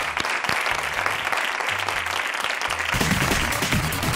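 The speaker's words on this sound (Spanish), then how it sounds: "este aplauso es para ti" Studio audience applauding on a Spanish TV game show, a steady dense wash of clapping that swells louder toward the end, with a voice briefly heard over it.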